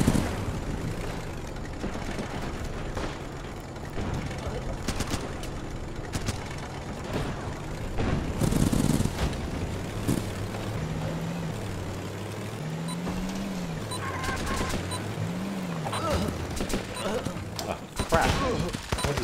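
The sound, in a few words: gunfire in video game Running with Rifles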